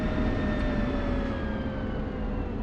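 Simulated F-16 jet engine in DCS winding down after the throttle is cut, a steady loud roar with slowly falling whine tones, continuous throughout without talk.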